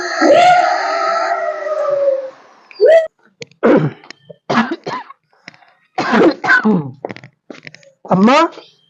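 A person coughs a few times in rough, separate bursts, with a drawn-out vocal sound at the start.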